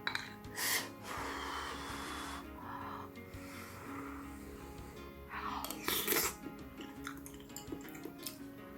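Someone eats fish cake from a spicy doenjang stew, with close, soft chewing, slurping and breathing sounds and a few sharp clinks of a utensil.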